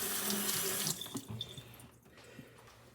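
Tap water runs steadily into a sink while a sharpening stone is washed, a broad hiss that cuts off after about a second, followed by quieter drips, clinks and small handling sounds.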